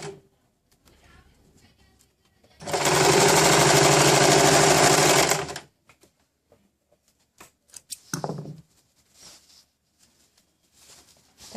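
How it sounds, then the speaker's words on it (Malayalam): A sewing machine runs in one continuous burst for about three seconds, stitching kurti canvas with a half-inch seam, framed by soft handling noises and a brief voice afterward. "1/2 ഇഞ്ചിൻ്റെ സീം വിട്ടിട്ട് നമുക്കവിടെ സ്റ്റിച്ച് ചെയ്ത് ഇടാക്കാം"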